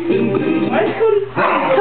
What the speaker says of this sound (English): Oh, well, he was barking.